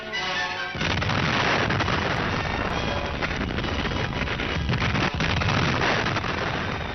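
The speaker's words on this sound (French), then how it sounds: "C'est du bateau amiral le Campagna que le docteur Pennet, chargé de l'expérience, a déclenché l'explosion." The first British atomic bomb test, on archival film, with a sudden loud roaring blast that swells into a sustained, dense rumble lasting several seconds with no talk.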